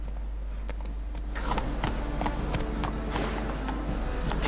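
Roach, the horse in The Witcher 3 game, gallops with a fast, steady clip-clop of hooves, rising in loudness and continuing throughout over a low constant hum, with no talk.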